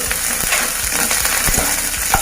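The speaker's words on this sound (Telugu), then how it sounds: "అలాగే ఒక 5 పచ్చిమిర్చి ఇలా తీసుకోవాలి, అవి కూడా వేసుకుందాం. కొద్దిగా కరివేపాకు వేసి" Green chillies and curry leaves fry loudly in hot oil in a pan for a raw banana dish, a dense close sizzle with spoon stirring scrapes repeating through it.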